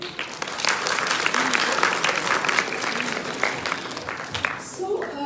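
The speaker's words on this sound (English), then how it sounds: "Let's clap for him." An audience claps for a participant during a masterclass lecture, bursting into a dense, even round of applause that holds strong and steady, with some voices mixed in and a brief lift near the close.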